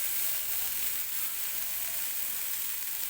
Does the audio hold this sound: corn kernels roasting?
yes